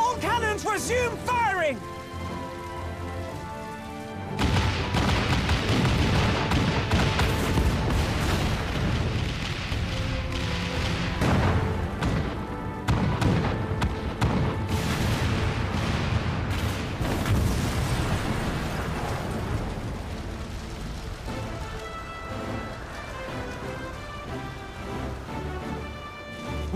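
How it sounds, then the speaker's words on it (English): Cannon fire and explosions in a Final Fantasy XIV battle, sustained loud booms and blasts layered over a dense, dramatic orchestral score, with voices shouting commands now and then. "All cannons resume fire!"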